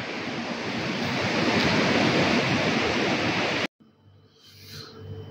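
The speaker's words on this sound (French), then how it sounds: "compte tenu du fort coup de vent qu'il y a dehors" Strong wind roars in a steady, loud rush against the microphone, then cuts off abruptly to a quiet background with faint sounds.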